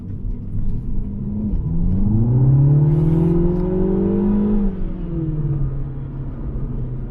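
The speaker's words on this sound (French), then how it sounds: "le son moteur était vraiment pas oufissime" A Mini Cooper S convertible engine revs up and accelerates, a rising drone that holds steady then falls back as the car eases off, loud and close.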